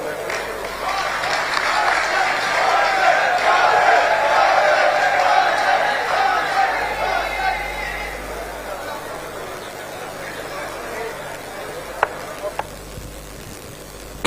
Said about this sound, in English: Can I call for yet a bigger round of applause